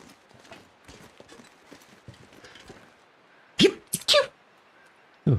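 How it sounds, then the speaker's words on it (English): A sudden sneeze from a character in The Long Dark rings out after a stretch of quiet footsteps, a couple of sharp bursts with a short follow-up near the end. "Oh, that was a sneeze"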